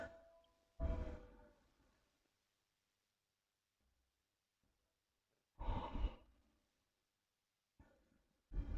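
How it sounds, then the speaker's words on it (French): Deep yoga breaths come as three long, slow, airy exhalations spaced apart, close and fairly loud, with near silence between them. "Respiration à l'intérieur."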